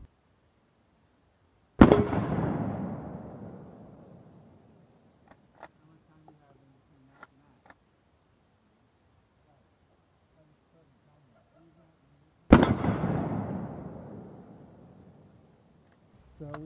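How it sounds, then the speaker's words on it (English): Two loud rifle shots strike a Faralloy 500 armor steel plate outdoors, each a sharp crack followed by a long rolling echo, about ten seconds apart, with a few faint clicks in between. "I'm going to try and see if I can't put some more rounds right in that same spot and see if we can punch it."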